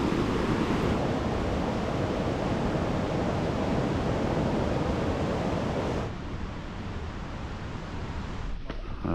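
River flowing just nearby in Japan, a dense, steady rush of water noise filling the scene, easing slightly toward the end.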